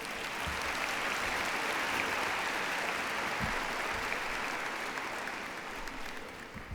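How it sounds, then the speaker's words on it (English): Broad, sustained applause from a large crowd at a Lone Star College CyFair graduation ceremony, dense clapping that holds steady and eases slightly near the end. "Let's give them a round of applause"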